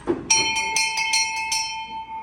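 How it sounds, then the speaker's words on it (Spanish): A restaurant's bell rung several times in quick succession, each clear metallic strike ringing out and overlapping before a fading decay. "si usted fue un cliente totalmente satisfecho, favor de tocar la campana"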